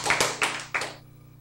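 Three distinct hand claps in an even rhythm, close and moderately loud, ending in quiet, from a speaker demonstrating clapping during a talk.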